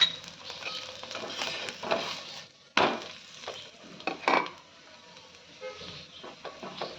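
Oil drizzled around food in a hot pan hisses and sizzles, with a few loud clattering knocks of a utensil against the pan, close by.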